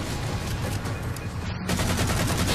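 Dense bursts of gunfire in Halo 4 Spartan Ops, rapid and continuous, with a loud volley of shots intensifying near the end.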